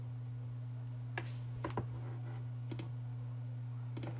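Several sparse keystrokes on a computer keyboard, typing a short search, sound as isolated soft clicks over a steady low electrical hum, with no voices.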